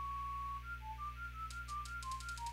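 Whistled melody from the video game Magician's Quest, a clear single-voice tune of short rising and falling notes over a steady low hum, joined partway through by a quick series of bright chirping accents.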